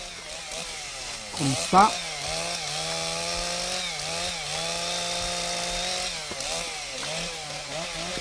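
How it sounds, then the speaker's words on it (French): Chainsaw felling a tree in a forest, the engine idling then revving in sustained high whines with rising and falling pitch as it cuts, close and loud, with brief speech in the background. "ensuite démarre la scie"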